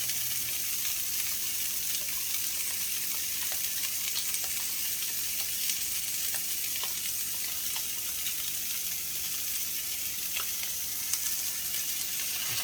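Salmon fillet sizzling in a pan as a soy sauce glaze goes in, a steady bright hiss of frying with faint crackles running throughout, close and even, with no talking.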